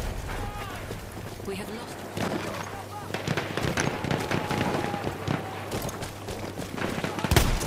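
Shotgun blasts and battlefield gunfire in the game Battlefield 1, with sharp cracks scattered through a dense, noisy combat mix and one loud blast near the end, while a player shouts over the action.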